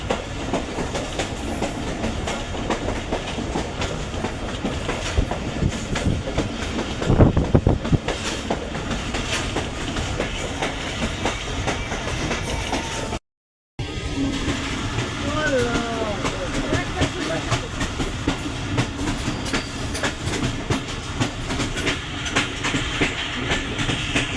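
A passenger train, the 13 Up Awam Express with an old coach, rolls along the tracks near Rawalpindi with a steady rumble and rhythmic clatter of wheels, continuous throughout apart from a momentary dropout.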